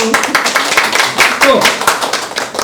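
Clapping from a small audience at a lecture on social dialogue, a series of distinct, fairly close hand claps in an uneven rhythm, with talking mixed in.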